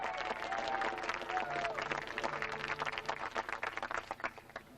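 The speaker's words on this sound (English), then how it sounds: "So, ladies and gentlemen, a warm round of applause, if you will, for tonight's guest artiste and London's leading male impersonator, Miss Alice Nutting." Theatre audience at a 1999 high school stage production of the musical Edwin Drood applauds a guest performer, a steady wash of clapping that fills the whole stretch, with voices and tonal sounds mixed in.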